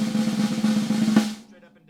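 A snare drum buzz roll played with the sticks coming straight up and down, a dense, gritty rattle with individual strokes faintly audible, steady for about a second before cutting off.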